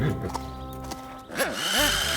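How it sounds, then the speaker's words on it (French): Horses in a farm cartoon neigh and whinny loudly up close, with rising and falling cries and some hoof clatter, and no talk over them. "Scoop joue avec les chevaux."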